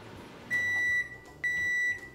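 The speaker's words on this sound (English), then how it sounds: "let's microwave this one." Two long, high electronic beeps from a microwave oven heating a lemon, each lasting about half a second, separated by a short pause over a faint background hum.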